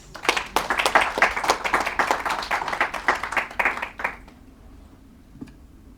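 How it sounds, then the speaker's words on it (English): Audience at an Ayurveda Day cultural event claps after a performance, a burst of dense hand claps for about four seconds that then stops, leaving quiet room tone. "Big round of applause."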